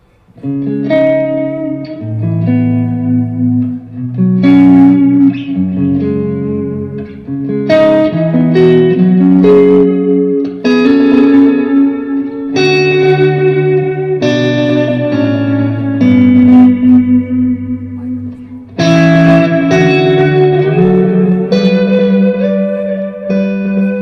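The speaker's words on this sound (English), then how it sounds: "This is the echo repeats are chorusing." An electric guitar runs through an echo pedal whose repeats are chorused, sustaining melodic notes and chords that bloom into a shimmering, wavering wash of delayed trails. It plays loud and continuous, with no talking.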